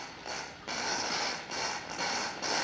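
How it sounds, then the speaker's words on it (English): A vacuum pump drains the last of the water from a river barrage lock at Milang during drought low water. It gives a steady mechanical churn with rhythmic surges roughly every half second, near and fairly loud. "They've got a bit of a vacuum pump going down here"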